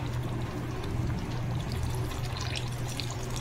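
Water poured from a spice bowl into a pan of partly cooked potatoes, a steady close splashing stream that runs without a break, no talking.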